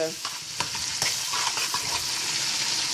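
Parsley, garlic, chili and green onion sizzle in hot olive oil and butter in a cooking pot, a steady bright crackle with sharp stirring clicks and scrapes scattered throughout.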